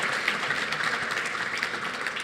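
Steady, dense applause from a gala dinner audience at an annual convention awards night, a continuous wash of many hands clapping with no voices on top.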